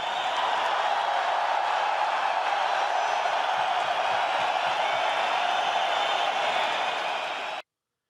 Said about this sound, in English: it just sounded like the crowd was getting louder and louder